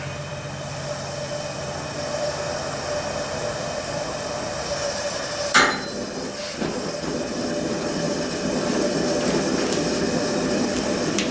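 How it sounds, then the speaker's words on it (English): A Coleman camping stove burns gas with a steady broadband hiss and roar that holds nearly constant, with one brief sharp click partway through and no voices. "I turn the valve until I hear the gas burning."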